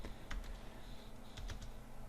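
Quiet keystrokes tap on a computer keyboard in a short, irregular burst of a few clicks, close and faint, with no talking.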